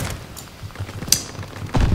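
Video game shotguns fire two sharp, booming blasts a fraction of a second apart, over faint mechanical clicks and low rumble.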